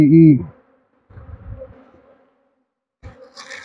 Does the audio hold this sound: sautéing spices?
no